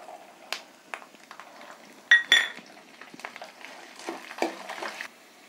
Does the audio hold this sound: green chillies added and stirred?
yes